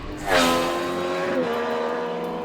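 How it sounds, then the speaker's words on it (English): A 2023 Triumph Street Triple motorcycle with a new exhaust revs up hard, roaring and rising in pitch before settling into a sustained growl, close by with no talking. "the pure aural ecstasy emanating from the new exhaust"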